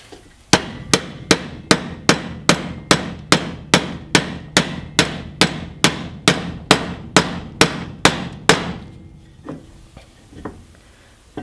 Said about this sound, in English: when I hammered that in